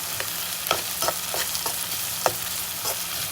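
Chopped capsicum sizzles and fries in a hot pan for a lunchbox channa pulao, with a steady hiss broken by several sharp stirring scrapes at an irregular pace, close up and with no talk.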